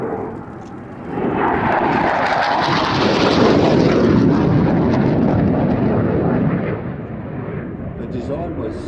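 A jet aircraft flying at an air show roars loudly in afterburner. The deep, rumbling thunder swells and holds for several seconds before easing slightly, and a voice can be heard over it.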